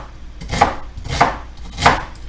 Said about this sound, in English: we're going to go ahead and cut the onions up,